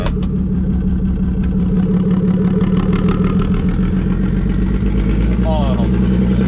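A turbocharged BMW E36 with no tune idles in a steady, even mid-pitched drone with a slight rough pulse. Voices come in briefly near the middle and the end.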